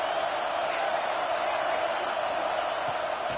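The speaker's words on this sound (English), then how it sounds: "this crowd is at fever pitch" A packed football stadium crowd roars steadily during a third-down play in the red zone, a dense continuous wash of cheering and noise with no breaks, heard from a distance.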